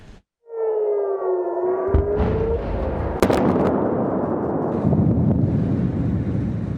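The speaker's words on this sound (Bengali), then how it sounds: "বেজে ওঠে সতর্কতামূলক সাইরেন" Civil defense missile warning siren wailing in Tel Aviv: a loud, sustained siren tone that rises and falls, over a dense roar of outdoor noise, with a sharp crack partway through.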